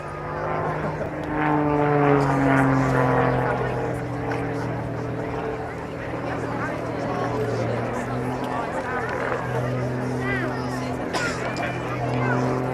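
A propeller aircraft flies in at the Halton Air Show, its droning engine tones rising and wavering steadily as it approaches, with a commentator talking over it and crowd babble in the background.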